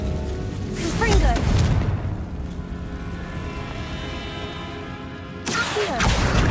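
A Confringo fire-blasting spell explodes in Hogwarts Legacy, a booming burst early on and another sharp blast near the end, with a low rumbling in between.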